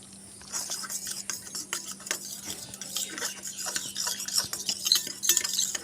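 A spoon stirs cumin powder, chili powder and turmeric with a little water in a small bowl. It makes close, continuous scraping with light clinks against the sides, with no talk.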